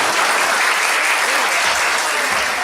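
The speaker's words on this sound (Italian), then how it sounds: "io vorrei che facesse un applauso a loro" Loud, dense audience applause at the Festival del Sud Piedigrottissima at the Maschio Angioino, a continuous roar of many hands clapping close by, holding steady without a break.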